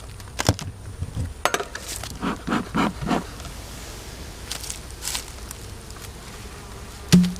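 Honeybees buzzing as a hive is opened during bee yard work, a faint steady hum with scattered louder passes of individual insects and a few knocks and rustles from handling the equipment.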